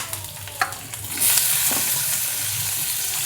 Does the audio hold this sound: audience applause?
no